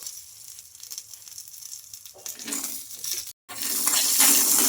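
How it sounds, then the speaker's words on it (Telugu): Peanuts, green chilies, garlic and cumin frying in hot oil, a quiet low rumble that swells into a loud crackling sizzle, broken by a brief silence, then sizzling steadily and strongly. "ఇంకా ఈ పల్లీలు కూడా వేసుకున్న తర్వాత బాగా కలిపేసుకొని పల్లీలు కూడా బాగా ఫ్రై చేసుకోవాలి."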